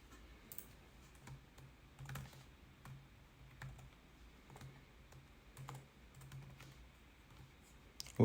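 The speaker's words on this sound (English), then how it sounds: "Man, this keyboard is not letting." Fast, uneven typing on a computer keyboard while coding, a steady close run of soft key clicks with a louder clack at the end, no voices.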